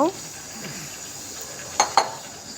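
Chickpeas stirred with spices in a pan give a soft, low sizzle beneath a light hiss, broken near the end by two quick clinks of the spoon against the pan.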